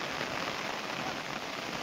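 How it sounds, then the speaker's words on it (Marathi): Heavy rain pouring over farm fields, a dense, even hiss of drops on surfaces, constant and fairly faint throughout with no voices. "पण पाऊस जोराचा आलाय"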